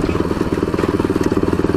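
A Bajaj Pulsar NS200 motorcycle being ridden, its engine giving a rapid, even pulsing throb with steady wind noise, close and continuous.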